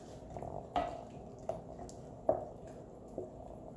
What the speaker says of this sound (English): Just gonna spin, I'm gonna mix.